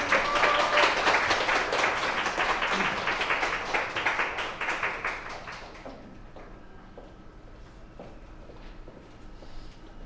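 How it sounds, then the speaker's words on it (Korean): A church congregation applauding during a Sunday service, loud dense clapping for about six seconds that then fades to a quiet room with faint rustling. "박수로 환영하시겠습니다."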